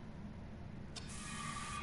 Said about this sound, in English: I do still have the first aid spray.